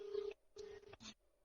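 A telephone call being placed to an official's line, heard as three short electronic tones in quick succession, close and clear, with no talking.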